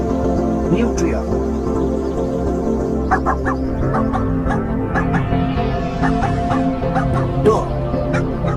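A dog barks in a series of short, sharp yips over a dense, steady background of other animal calls, with speech-like sounds mixed in.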